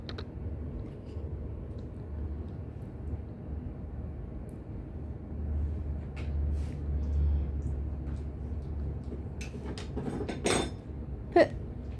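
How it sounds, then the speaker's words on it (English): A metal spoon clattering on a floor in a home where a dog is doing scentwork, with a few scattered clinks building to a sharper clatter near the end over steady room rumble. "Oh, the spoon's on the floor."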